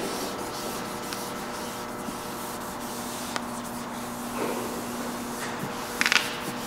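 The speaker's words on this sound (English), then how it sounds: "I use my squeegee right on there before moving forward" Squeegee rubbed across vinyl wrap film on a G Wagon's body panel, a faint, continuous soft scraping and rubbing close up, with a few light taps and a brief crinkle near the end.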